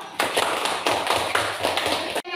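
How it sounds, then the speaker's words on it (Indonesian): Classroom of students clapping together, a dense burst of hand claps with a few rhythmic surges, close and loud, ending abruptly after about two seconds. "Oke, tepuk tangan dulu."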